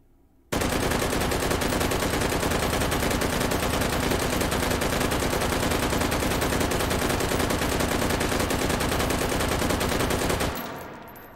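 Sustained, rapid automatic fire from an H&K G36C carbine loaded with a drum magazine in the H3VR virtual reality game, a loud unbroken burst of roughly ten seconds that cuts off cleanly, with no talking.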